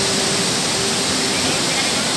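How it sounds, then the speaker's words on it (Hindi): A waterfall dropping 250 feet in Bhabhua, Bihar, heard as a loud, unbroken roar of falling water, a dense steady hiss close by and alone for a couple of seconds. "एक बार मैं आपको इस झरने का रियल साउंड सुना देता हूँ।"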